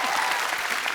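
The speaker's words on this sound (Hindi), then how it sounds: "ठोको ताली।" A brief, dense burst of studio audience clapping on a television comedy show set, steady and close for about a second.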